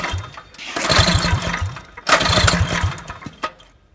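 A Predator 212 small engine with a Tillotson TCT carburetor is pulled to life, sputtering in two loud rough bursts of rapid firing before fading and dying down.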